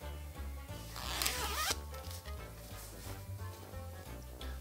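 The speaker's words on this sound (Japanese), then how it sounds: "チャック閉じます。" A zipper is pulled shut on a two-tier drying net bag bought at a 100-yen shop and filled with vegetables, making a close, raspy zip of a few seconds with a brief louder burst partway through.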